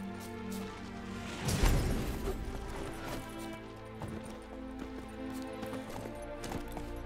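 Roach, Geralt's horse in The Witcher 3: Wild Hunt, galloping with steady rhythmic hoofbeats over a constant game ambience, a louder thud early on, moderately close, with no talk.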